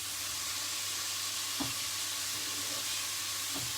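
Potatoes for a slow-cooked beef stew sizzle steadily in a hot pot, a constant hiss with a couple of soft clunks from the pan, and no talking.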